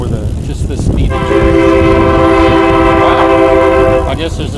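A passing train sounds a loud, sustained horn for about three seconds over a rumbling roadside background, heard outdoors during a test ride on an Azub Ti-Fly X recumbent trike.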